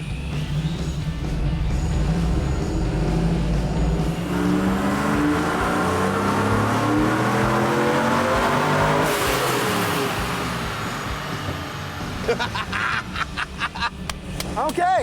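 Supercharged Chevrolet Trailblazer SS drift truck revving hard on a dyno in first gear, a loud sustained engine roar climbing steadily in pitch, then cutting off into sharp rattling pops and backfires near the end.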